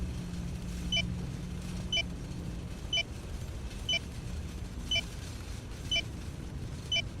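A warning alarm in a bus driving video game beeps in short, evenly spaced tones about once a second over a low, constant engine rumble.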